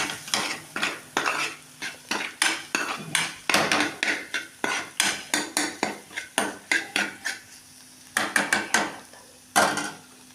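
A utensil scrapes and clanks rhythmically against a metal pan while stirring paneer gravy masala, repeated strokes up close with brief pauses between bursts.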